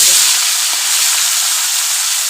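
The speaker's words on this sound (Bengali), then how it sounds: "একসাথে সব ভাজবো পার্ট ওয়াইজে ভেজে দেবো" Desi tengra fish frying in hot oil, cooked in batches: a loud, steady, dense hiss of sizzling that fills the whole moment without a break.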